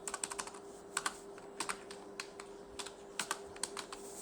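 Bursts of fast, light keystrokes on a computer keyboard while typing into an MS Excel sheet, close and soft, over a low constant electrical hum with no voices.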